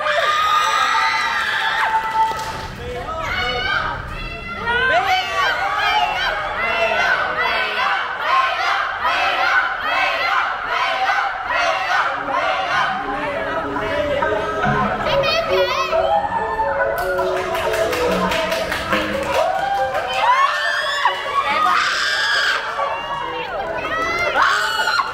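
A lively audience at an idol final exam show claps and cheers, with dense crowd noise, excited shouts and overlapping voices continuing throughout, swelling loudest near the end.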